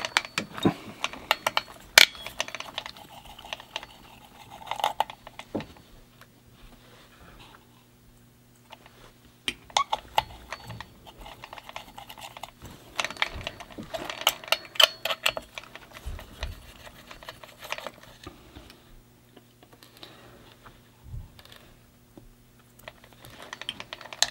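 Small screws are tightened on an XRAY XB8 RC car with quick clicking and ratcheting taps in irregular close bursts, broken by short pauses and faint handling noise under a low steady hum.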